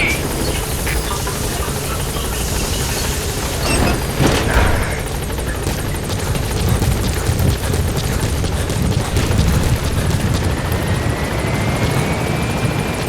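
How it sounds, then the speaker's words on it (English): A support helicopter in the video game Metal Gear Solid V: The Phantom Pain, its rotor thumps and engine roar filling the scene steadily, loud and close, with a rising whine near the end and no talking. "Support helicopter"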